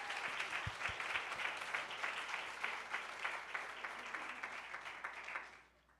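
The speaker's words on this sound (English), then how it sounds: "Can we give them a round of applause?" An audience at a health equity symposium claps steadily for several seconds, a dense even patter of many hands that fades out at the end.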